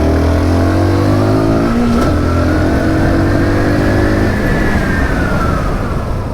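A SYM NH-T 200 motorcycle accelerates hard, its engine note climbing steadily through the gears, loud and close with constant wind and road noise and no voices.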